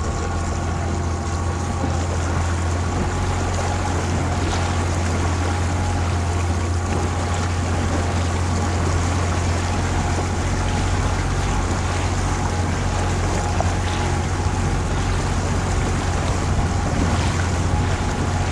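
Steady roar of a catamaran moving over water in the Keppel Islands, Queensland, with a low engine drone, rushing wash and wind buffeting the microphone throughout.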